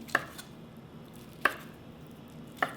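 A knife chops soaked, softened shiitake mushrooms into quarters on a board, three crisp isolated cuts spaced about a second apart, close and clear with a quiet room behind.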